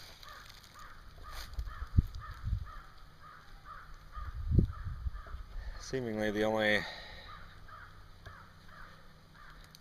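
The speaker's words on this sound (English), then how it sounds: "that raven I hear in the background" A raven calls several times from a distance in a desolate wild landscape, its harsh croaks rising over faint wind while someone speaks quietly nearby.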